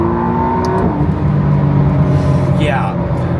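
A McLaren Artura Spider's V6 hybrid engine pulls hard in a steady, loud, close rumbling drone with rising tones, a voice briefly talking over it.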